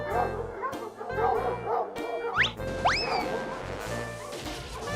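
Several dogs waiting outside a shop bark and yip in excited bursts, with a couple of high rising whines cutting through the clamor, fairly close and continuous over a busy background.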